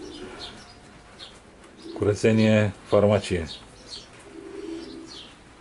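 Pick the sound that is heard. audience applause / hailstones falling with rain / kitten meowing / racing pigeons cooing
racing pigeons cooing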